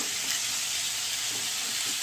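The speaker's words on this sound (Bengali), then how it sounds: "এটাকে ভাজা ভাজা করব।" Vegetables fry in a pan with a continuous, even hiss of sizzling oil, close and steady, with no voices.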